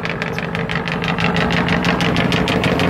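A river passenger launch on the Hatkuria route in Bangladesh runs its engine loud and close, a fast, even knocking throb over a constant low rumble, with no talking.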